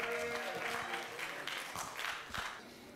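An audience at a bartender quiz contest breaks into applause, a short burst of clapping from a modest crowd, moderately close, with a voice faintly beneath it.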